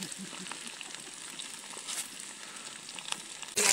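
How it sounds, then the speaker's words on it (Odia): Whole fish fry in hot oil for a fish and prawn curry, a steady close sizzle and crackle with a few sharper pops and a louder burst at the end. "ଏବେ ଗୋଟା ଗୋଟା ମାଛ ଛଣା ହେଉଛି"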